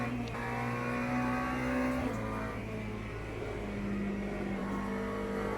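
Race car engine in the Le Mans Ultimate video game, a steady droning hum holding a near-constant pitch with slight shifts, loud and continuous with no voices over it.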